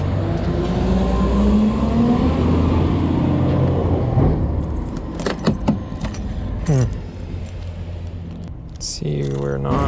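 A ring of keys jangles close by, with bursts of metallic clinks in the middle of the clip, near a 2004 Honda Pilot, over a rumbling vehicle and brief muffled voices.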